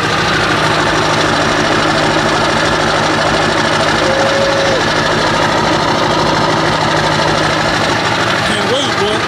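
A loud Ford F-250 diesel pickup engine idles steadily with a deep, rhythmic knocking rumble through a 4-inch exhaust pipe, continuous and close throughout.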